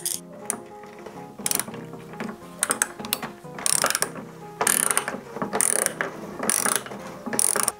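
Ratchet wrench clicking in bursts while loosening a bolt on the floor of a 1969 vintage caravan, with repeated close, loud rapid pawl ticks separated by short pauses.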